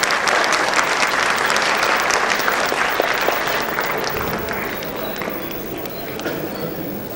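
An audience applauding to welcome guests at an Urdu shayari and geet gathering, with steady dense clapping that fades slightly toward the end.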